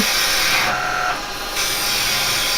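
A woodturning tool scrapes against spinning wood on a lathe, producing a continuous, loud rasping whir with a brief dip in the middle as the tool's contact changes.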